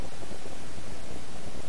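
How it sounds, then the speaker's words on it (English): Minecraft cave ambience rises as a dense, hollow rushing noise, steady and fairly loud, filling the short stretch with no talking. "Did you guys hear that? The cave sound?"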